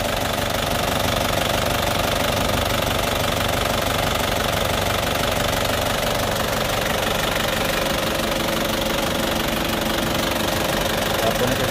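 An Isuzu Sportivo engine idles roughly and shakily before a tune-up, a steady close-up mechanical drone with a knocking, vibrating texture running throughout without a break.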